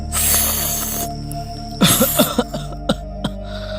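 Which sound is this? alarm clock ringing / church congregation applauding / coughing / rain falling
coughing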